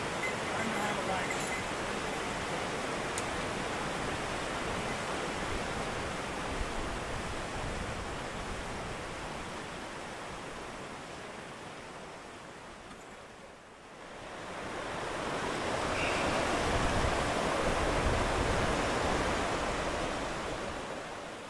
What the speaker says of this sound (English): there's a river underground here, and look at it where it comes out